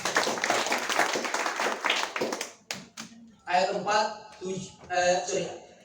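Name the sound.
audience clapping at church service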